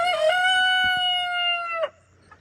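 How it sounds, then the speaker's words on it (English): A Rhode Island Red rooster gives one long crow, loud and fairly close, with a brief cluck at its end and faint farmyard noise behind it. "Here's my Rhode Island Reds."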